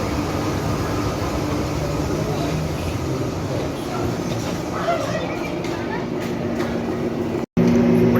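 The Simla to Kalka mini train rumbles along with a steady, dense rattle and hum from inside the carriage, continuous and fairly loud, with a short dropout near the end.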